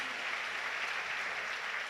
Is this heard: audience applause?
yes